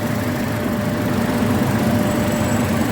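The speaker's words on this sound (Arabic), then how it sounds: "ده حالة الموتور، صوت الموتور ما شاء الله ناعم جدا" A 2017 Toyota Corolla engine idles steadily, a smooth continuous rumble with no talking.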